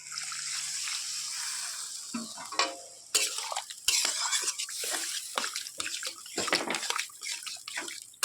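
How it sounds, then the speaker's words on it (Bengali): Water pours into a pan of fried paneer, a steady rushing splash that gives way to bubbling, spattering sizzle and occasional clatter of a spoon against the pan, close and fairly loud. "জল দিয়ে দেবো।"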